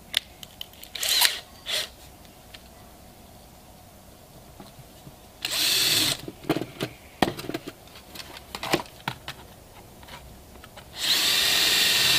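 A power drill whirs in several short bursts, with two longer sustained runs, separated by clicks, handling noises and quiet pauses, while building an auxiliary fuse box for a Honda ST1100 Pan European motorcycle.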